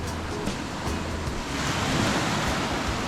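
Steady wash of waves on a shore of the Ionian Sea in Italy, a continuous broadband rush with gentle swells and some wind noise.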